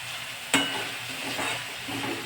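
An onion mixture for baingan bharta cooks on low heat in a pan, giving a steady sizzle with a sharp clatter of stirring near the start and soft scraping after.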